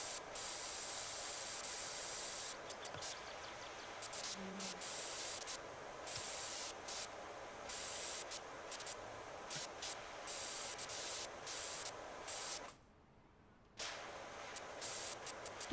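Continuous hissing spray from a pressure washer in Power Wash Simulator 2, steady and moderately quiet, with short flickering interruptions and one full pause of about a second before the jet resumes.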